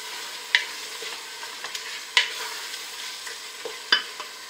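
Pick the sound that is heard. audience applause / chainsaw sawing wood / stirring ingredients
stirring ingredients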